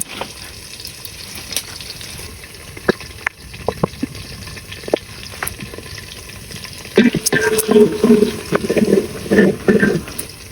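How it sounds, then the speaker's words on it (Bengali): Onions frying in oil with whole garam masala while buffalo meat is prepared: a steady soft sizzle with scattered clicks and utensil taps, growing louder and busier bubbling toward the end, with faint voices in the background. "এখন পেঁয়াজ গুলো আগে ভাজা নিব এই গরম মশলা গুলো দিয়ে"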